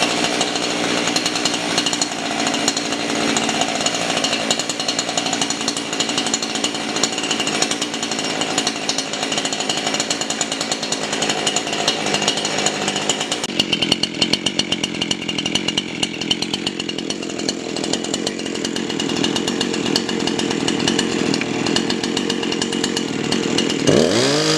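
A Husqvarna 261 chainsaw runs continuously and loudly up close, its engine buzzing steadily and shifting pitch partway through before dropping off at the end.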